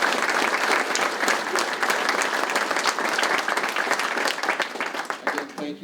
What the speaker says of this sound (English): let's give a round of applause to Doug for his service to us